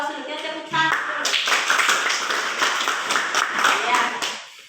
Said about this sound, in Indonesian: kita kasih aplaus dulu, kita tepuk tangan dulu